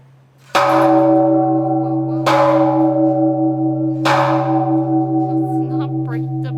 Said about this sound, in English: Let's not break the bell now.